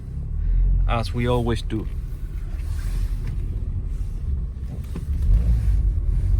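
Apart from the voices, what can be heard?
2006 Honda Accord driving around the lot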